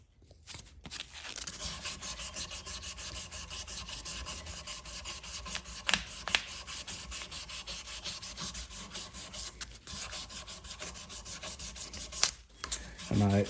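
Close-up sanding of a wooden knife handle: a continuous, rhythmic rasping and rubbing with occasional sharper scrapes, steady throughout with no speech.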